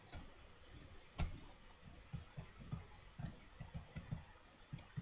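Soft, quick mouse clicks and key taps while programming a platformer game in Scratch, coming in an irregular run at low level over faint room noise.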